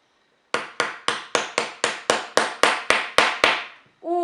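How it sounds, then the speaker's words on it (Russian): A child striking with a toy hammer, about a dozen crisp, evenly spaced taps in a steady rhythm, close and clear, trailing off before a short voiced sound at the end. "Молоточек переверни. Вот так вот, правильно. И забиваем."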